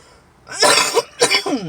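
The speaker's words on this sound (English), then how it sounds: "I literally cough or choke, basically, every time I'm talking to y'all." Two harsh coughs in quick succession, loud and close, with a brief pause between them.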